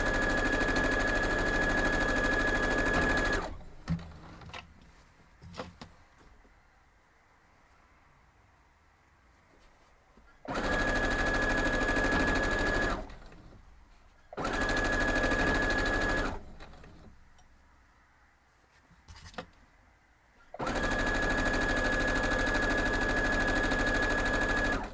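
A sewing machine stitching a jelly roll table runner runs in three steady, loud bursts of rapid needle chatter, separated by quiet pauses filled with faint handling sounds.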